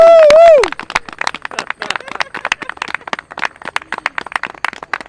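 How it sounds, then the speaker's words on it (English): A tree lighting crowd in the Village of Mamaroneck claps and cheers for Santa Claus's arrival, with scattered, uneven hand claps and a short whoop at the start, moderately close. "please give a big round of applause for old Kris Kringle"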